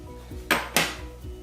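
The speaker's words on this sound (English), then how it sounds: "I'm gonna add the green onions, which I sliced earlier" Cabbage and sliced green onions tipped into a pot of Cambodian cabbage and mushroom soup, heard as two quick close clatters and splashes about a quarter second apart over a low steady hum.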